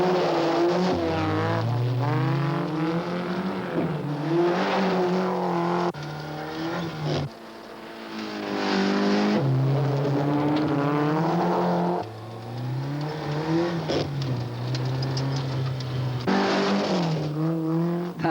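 A rally car engine roars loud and close, rising and falling through repeated gear changes as it drives hard at speed, with no voices.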